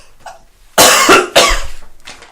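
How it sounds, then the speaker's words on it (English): A person coughs several times in close succession, loud and near, with a harsh rasping burst followed by a second fit and a softer trailing cough. "Can we pause so I can cough it out here?"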